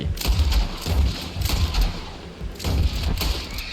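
Gunshots ring out in the video game Red Dead Redemption 2 as a cowboy-style gunslinger fires. Several loud, booming reports come in irregular bursts with a heavy low-end thud.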